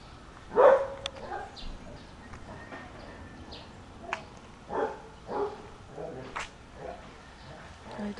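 Dogs playing inside a fenced yard give a handful of scattered, fairly faint barks and yips at irregular intervals over quiet outdoor background noise.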